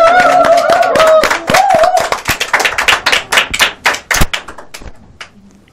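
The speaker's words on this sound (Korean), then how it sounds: "박수!" Audience at a 2021 citizen mayoral-candidate audition event in Andong applauds, starting as a dense burst of clapping with some voices mixed in, then thinning into scattered individual claps that fade out.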